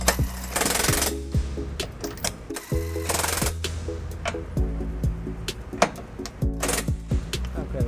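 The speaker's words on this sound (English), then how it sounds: "I'm going to take an electric DeWalt impact, and I'm going to use an 18mm socket with an extension here" An electric DeWalt impact driver with an 18mm socket and extension rattles in repeated hammering bursts while snugging trailer hitch bolts on a 2012 Toyota RAV4, loud and close.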